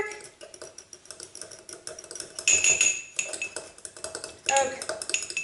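A fork clinks and scrapes against a bowl while mixing dry ingredients for matcha steamed buns, rapid close tapping with a few sharper metallic rings.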